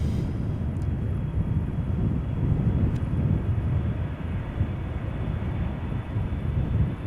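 Jet engine rumble from a Boeing 777-200 airliner at Amsterdam Schiphol Airport, a steady broad roar held at an even loudness throughout, with no talking.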